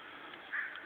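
Crows flying over a snowy morning give a brief, faint, harsh call or two, heard at a distance with no voices.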